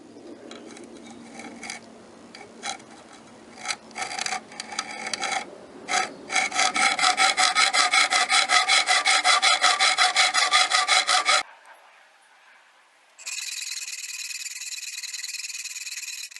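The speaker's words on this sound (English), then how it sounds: "Got a file to clean up the cut." A hand file rasps across a freshly cut edge of lightweight alloy metal, with a steady run of rhythmic strokes, near and loud, then a short pause before a final burst of continuous filing.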